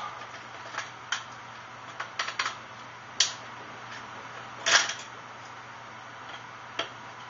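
Unscrewing screws on a Nerf Retaliator blaster, a series of small, faint, irregular ticks and clicks from the screwdriver and plastic parts in a quiet room, with no voices.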